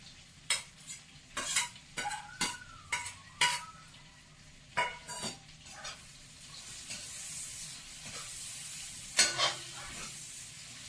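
Meat frying with ginger, garlic and chili is stirred in a pan: a run of sharp scraping and clinking strokes over a low sizzle, then a steadier frying hiss.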